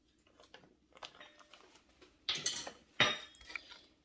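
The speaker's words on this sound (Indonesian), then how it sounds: "Kita aduk merata ya Bang One ya, biar kecampur merata" A spoon scrapes and clinks against a bowl as a homemade tempeh mixture is stirred, soft scraping sounds broken by two louder metallic knocks, close up.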